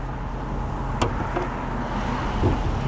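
A 2006 Chrysler 300C with a 5.7 liter V8 Hemi engine running, heard as a steady low rumble with a faint click or two over it, close and continuous, with no talking.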